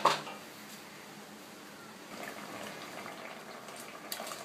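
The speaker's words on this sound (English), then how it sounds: "as the mixture starts heating up, because it's so thick and viscous, it will start bubbling" Thick, viscous curry laksa paste bubbles softly in a pan as it heats, with faint, irregular pops and gurgles over a low simmering hiss and a few small clinks.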